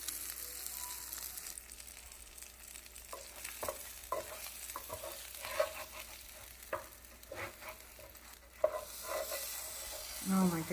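Shrimp tacos crisp in a hot pan with melting cheese, giving a steady close sizzle and crackle with occasional stirring or scraping sounds and no voices.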